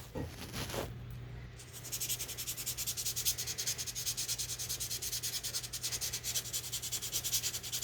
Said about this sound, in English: If it's something I don't like, I'll probably sand the shit out of it